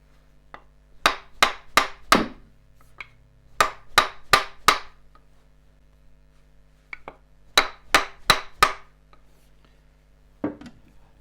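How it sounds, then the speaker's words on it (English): A hammer strikes the metal end of a woodturning depth drill in quick bursts of four or five sharp blows, pausing between each group, loud and close with no talking. "is hit on the end to get the drill right in"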